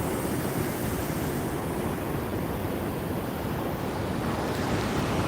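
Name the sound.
sea waves crashing below a cliff on the Konkan coast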